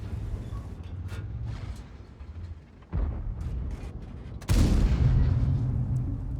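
A tank cannon fires in World of Tanks as a loud boom at about 4.5 seconds, with a sharper report near 3 seconds. Both ring over a steady low engine rumble and battle noise.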